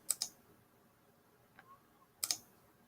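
A computer mouse clicks sharply: a quick double click at the start, a faint tap midway and another double click near the end, each alone against near silence.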